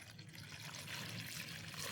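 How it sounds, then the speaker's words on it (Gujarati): Water is poured into an eggplant curry cooking on a stove, a soft, steady splashing trickle that stays faint and even throughout. "હાલો, પાણી રેડી દીધું છે."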